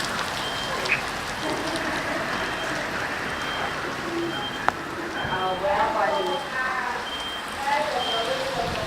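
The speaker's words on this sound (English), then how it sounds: "it's rain hitting the ceiling" Heavy rain drums steadily on a ceiling overhead with a dense, sizzling hiss throughout, broken by a few sharp clicks, while faint voices murmur in the background.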